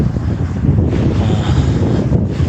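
Gusty wind buffets the microphone beside cold open water on a sunny November day, a loud rumbling roar that rises and falls in uneven surges with no voices.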